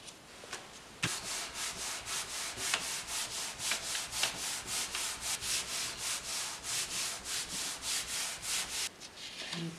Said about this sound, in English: I'm going to put the leaf on top of that. And again, we're just going to rub it.